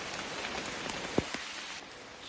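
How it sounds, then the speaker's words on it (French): Heavy rain falls steadily during a solo bicycle tour along a coastal route, a dense continuous hiss punctuated by a few sharper drop impacts close to the microphone. "Là, la pluie, elle me piquait le visage tellement il pleuvait fort."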